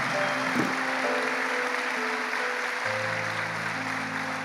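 A church congregation at a Catholic Mass claps steadily throughout, with sustained organ or keyboard chords playing underneath.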